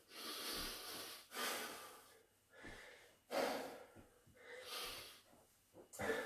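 Heavy breathing during a rest interval of a home squash conditioning workout, a series of deep, hissing inhales and exhales with snorting gasps, close and fairly quiet, no talk.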